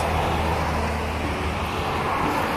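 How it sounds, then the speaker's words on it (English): Loud, steady traffic on a rural B road beside a campsite on the Severn Way, with a continuous low rumble of passing cars close by; no voices. "Sorry about the car noise, it's a B road."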